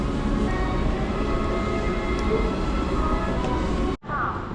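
A continuous low rumble of a train at Pingtung station in Taiwan, rolling steadily and fairly loud, cuts off abruptly near the end.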